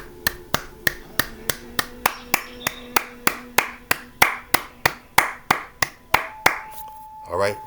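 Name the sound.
applause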